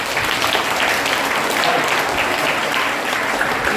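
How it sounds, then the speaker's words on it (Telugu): High school students at a motivation programme clap steadily for a girl, a dense, continuous burst of applause filling the room without a break. "ఈ అమ్మాయి కోసం చప్పట్లు కొట్టండి."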